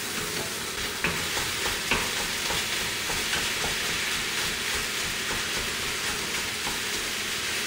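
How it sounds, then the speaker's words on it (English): Ground turkey or beef fries in a hot skillet, a loud continuous sizzle with repeated stirring scrapes and clicks across the whole stretch. "So to a hot skillet, we want to add our ground turkey or ground beef,"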